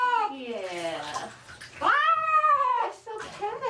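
A cat meows and caterwauls in drawn-out, rising wails during its first bath, several loud close cries separated by short gaps, with faint water and soft murmuring in the background.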